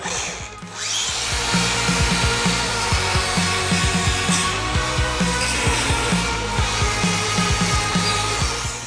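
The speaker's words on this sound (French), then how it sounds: "je vais meuler les trois" An angle grinder grinds down weld beads on a metal frame while mounting brackets are fitted. Its loud, steady abrasive whir runs almost continuously up close, with slight pulsing as the disc works the steel.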